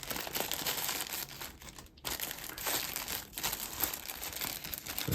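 Thin plastic packet bags crinkle and crackle as they are pulled off the tips of AVIOT WA-Q1 wireless earbuds, a close, quiet series of rustles with a short pause midway.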